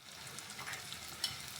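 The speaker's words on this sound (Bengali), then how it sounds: "নুন দিয়ে আমি আবার একটু ভাজবো।" Onion and garlic fry in a pan with a pinch of salt, giving an even, continuous sizzle with small crackles, close and quiet.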